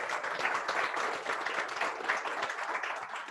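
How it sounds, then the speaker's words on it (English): An audience at a Colorado cancer plan launch in Cheyenne County applauds, giving a continuous, fairly soft round of clapping from a gathered crowd that holds steady without a break. "a huge round of applause for those who are in Cheyenne County today"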